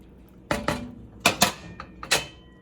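Rice being stirred with salt and freshly ground black pepper in a pot of boiling liquid for cilantro lime rice: four or five separate close scrapes and knocks of a utensil against the pot at uneven intervals, with no talking.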